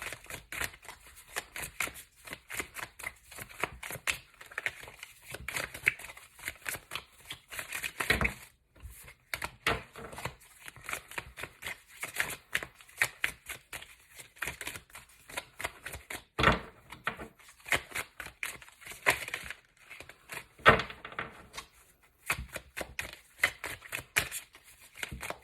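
Continuous papery riffling and soft slaps of tarot cards being shuffled by hand, with brief pauses and occasional louder taps, close by.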